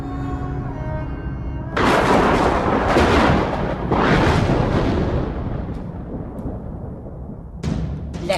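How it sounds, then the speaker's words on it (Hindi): Loud bursts of gunfire crash out in quick succession, booming and echoing heavily, then fade before a final sharp shot. "मार दी सारी गोलियां उसकी छाती में"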